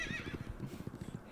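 A horse whinnies briefly in a horse riding video game, a faint high neigh at the start over steady clip-clopping hooves that continue throughout.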